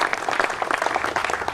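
Audience at a fraternity dedication ceremony breaking into applause, a loud, dense burst of many hands clapping close by and continuing steadily.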